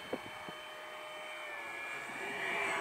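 A SkyAngel F-16 model jet with a 50mm electric ducted fan flies at about half throttle, giving a steady, fairly faint whine that swells slightly toward the end.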